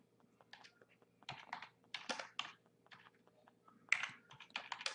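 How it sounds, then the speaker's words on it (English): Computer keyboard typing, with bursts of clicking keystrokes in uneven runs, close and fairly quiet, with no talking over it. "And all I'm doing is typing here."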